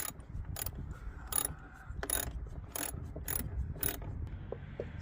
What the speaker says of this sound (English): I'm going to tighten the 3 bolts and secure the housing to the air filter box.